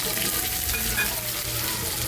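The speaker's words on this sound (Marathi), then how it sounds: "आता आपण त्यात ह्या मिरच्या घालणार आहोत।" Thick, mild green chillies frying in a pan, a soft continuous sizzle with faint stirring, heard close and alone for a couple of seconds.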